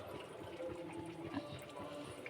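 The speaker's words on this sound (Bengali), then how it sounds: "এই যে ভাত ফুটছে" Rice boiling in a pot on a home kitchen stove, a steady, soft bubbling and simmering wash that stays even and close throughout, with no voices.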